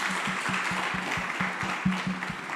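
An audience at a community dialogue claps together in a brief, fairly close burst of applause, with individual hand claps standing out in a quick rhythm.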